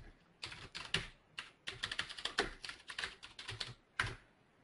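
Fingers type on a computer keyboard to enter a Google search, giving close, uneven bursts of clacking keystrokes with short pauses between runs and no talk.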